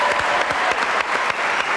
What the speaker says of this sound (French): Sophie, applaudissements.